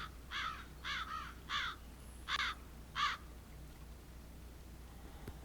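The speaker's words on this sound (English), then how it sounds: "Plenty of crows, it sounds like, around, though I don't see them" Crows caw five times in a loose, evenly spaced series within the Second Life game world, the calls moderately distant and clear above a faint ambient hum.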